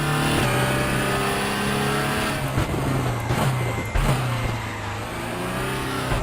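A Cupra Leon E-Racing electric race car in RaceRoom Racing Experience brakes hard, its steady motor whine dropping in pitch as it slows, loud and close with a few sharp bumps near the end.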